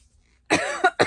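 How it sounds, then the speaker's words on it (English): A single harsh cough bursts out after a moment of near silence, followed by a short second cough, close and loud. "I'm still coughing, sorry"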